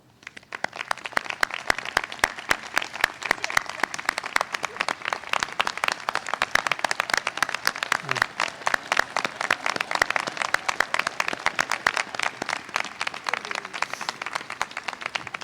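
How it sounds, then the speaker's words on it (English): A standing crowd at a graduate commencement applauds the Carroll University faculty, a dense, loud, sustained roar of clapping with sharp individual claps cutting through, continuing unbroken throughout. "Please rise and join me in applauding the amazing faculty of Carroll University."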